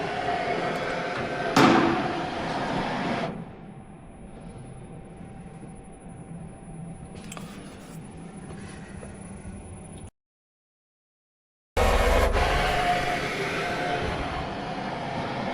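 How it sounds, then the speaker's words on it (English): A Micro24 diamond cutting lathe probes an alloy wheel with a steady mechanical hum and thin whine, broken by a brief louder burst and a short dropout before the running noise resumes. "That's now fully probed the wheel."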